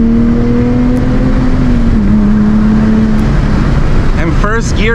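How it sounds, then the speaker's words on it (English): A Nissan 370Z fitted with an ISR Y-pipe and single exit exhaust drones loudly and steadily up close, its pitch dipping slightly midway, with someone speaking over it near the end. "it's very important that you can hear your exhaust"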